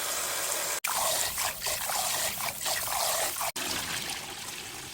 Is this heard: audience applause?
no